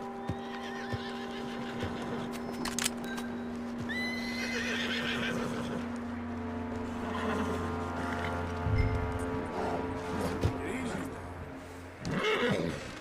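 A horse in the video game Red Dead Redemption 2 whinnies and snorts amid clopping hooves and a low rumbling backdrop, with people talking intermittently.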